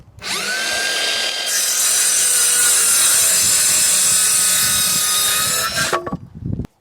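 Timber pieces for a log store frame being cut with a power saw, a loud continuous whining cut lasting several seconds before it winds down and stops.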